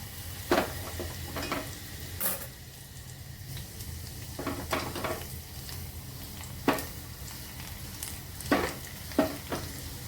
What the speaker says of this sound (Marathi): लसूण आपल्याला चांगला भाजून घ्यायचं आहे